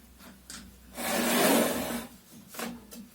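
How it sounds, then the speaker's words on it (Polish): Large bevel lock knob being loosened on a Ryobi ONE+ 18V cordless miter saw, giving a short rasping, rubbing turn that swells in the middle, with a few faint clicks before and after. "Tu mamy takie wielkie pokrętło. Odkręcamy."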